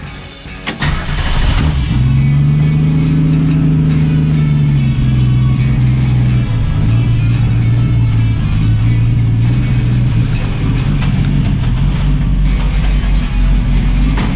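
A 1965 Ford Mustang restomod engine runs close and loud, idling roughly with a lumpy, uneven note and rising into a few revs before settling back, with no voices.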